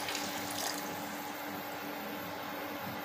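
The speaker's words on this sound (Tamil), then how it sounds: "இப்போ ஒரு சொப்பு தண்ணி ஊற்றிருக்கேன்." Water poured into a cooking pot in a home kitchen ahead of boiling pasta, a steady close splashing and trickling stream that holds at an even, moderate level without talk.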